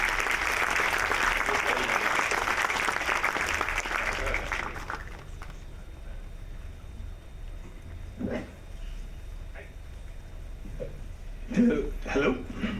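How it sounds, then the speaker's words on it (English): Audience applause welcoming a panel onto the stage at an AI business talk, dense and steady for about five seconds before fading into room noise and scattered voices. "Let's give a round of applause."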